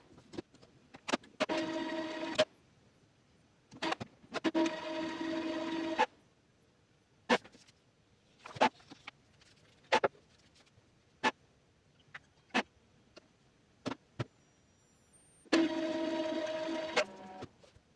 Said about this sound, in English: You will notice the power light blinking and the printer making some noise.